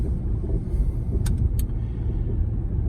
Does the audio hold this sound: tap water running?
no